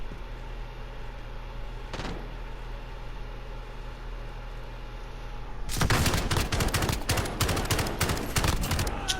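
First-person shooter gunfire in Kill Confirmed mode: after a quiet stretch of ambient game noise, loud rapid bursts of shots erupt and keep going through the rest of the clip, with no talking.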